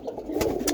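Roller pigeons in a cock kit of about sixteen birds give soft, low cooing murmurs that run continuously through the short stretch, close by, with a couple of brief brighter rustles.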